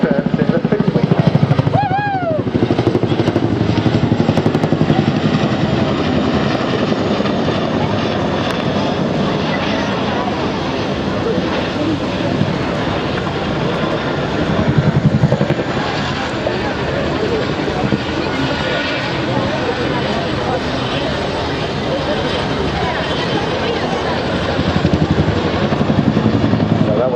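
Display helicopters fly the seesaw manoeuvre of opposed pedal turns at the Eastbourne airshow, a loud, sustained rotor and engine drone that swells and fades as they pivot, with a commentator talking over it throughout.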